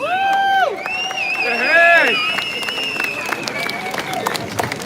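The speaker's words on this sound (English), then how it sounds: "Let's give him a round of applause." Crowd applause at an outdoor freedom rally in Dublin, scattered clapping and cheering mixed with shouting voices and whistles, loudest early then tapering off.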